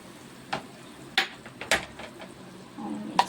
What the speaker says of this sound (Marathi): आणि हा तडका आपल्याला याच्यात घालून घ्यायचा.